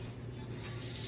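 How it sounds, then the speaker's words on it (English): A brief burst of water running from a kitchen tap as a hand is rinsed, a steady close hiss that brightens as the hand moves under the stream. "Let me wash my hand off since it's gross."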